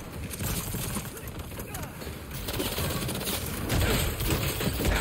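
Rapid gunfire rattles in the Spider-Man 2 video game, dense overlapping bursts of shots at moderate loudness, with a voice speaking over the fighting.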